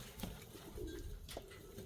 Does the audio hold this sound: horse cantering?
no